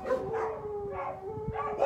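Dogs bark and yip inside an animal shelter, several overlapping calls in close succession with a whining tone, fairly near and steady across the short stretch.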